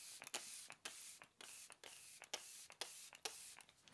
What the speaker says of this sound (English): I'm going to spray the Benefit setting spray.